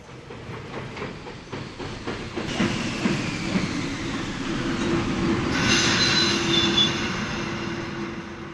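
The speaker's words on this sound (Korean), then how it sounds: "기차가 조용한 가니역에 멈췄다." A train arriving and braking to a halt at a quiet station, its wheels clattering and then squealing on the rails, steady and fairly close throughout.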